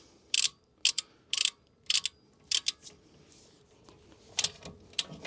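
A ratchet wrench tightens the bolts of 20 mm wheel spacers on a Tesla, giving several short bursts of sharp clicking with pauses between them, close and fairly loud, with no talking.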